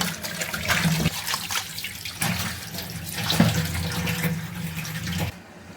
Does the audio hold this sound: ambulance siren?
no